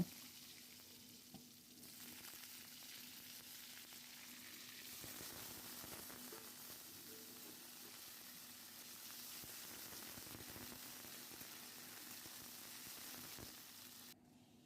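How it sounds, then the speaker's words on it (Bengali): Potatoes fry in hot oil tempered with cumin, giving a steady, close sizzle with a constant crackling hiss throughout, with no voices. "তেল তো গরম হয়ে গেছে, তো প্রথমে জিরে ফোড়ন দিয়ে এবারে আলুগুলোকে ভেজে নেব"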